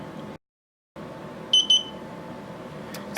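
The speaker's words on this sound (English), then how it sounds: "So the beep is at 30 seconds." Timer of a gel nail polish curing lamp giving two short, bright electronic beeps in a quick pair, clear over a quiet room hum.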